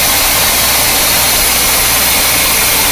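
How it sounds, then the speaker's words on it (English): A 1976 C3 Corvette with a brand-new crate engine idles high on its working choke, a steady loud broadband rumble with no gaps, running alone without voices. "The car started up fairly quickly considering it hasn't been run in 2 weeks. The choke's working. It's idling high like it's supposed to."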